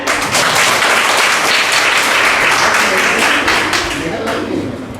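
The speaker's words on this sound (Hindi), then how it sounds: "एक बार आप लोग जोरदार ताली बजाएं।" A seated audience at a women's government college award ceremony in Pratapgarh gives a loud, sustained round of clapping, many hands beating rapidly and evenly before easing off slightly near the end.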